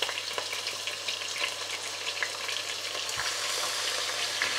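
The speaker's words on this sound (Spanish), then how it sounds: "En el mismo aceite vamos a añadir el picadillo de cebolla y ajo." Chopped onion and garlic sizzle in hot oil in a pan, a steady crackling fry with occasional stirring scrapes, close and continuous with no talking.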